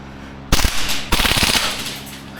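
Maruyama ISO556 gas blowback airsoft rifle firing two loud, close full-auto bursts, each a rapid rattling string of shots with a hissy tail, separated by a short gap.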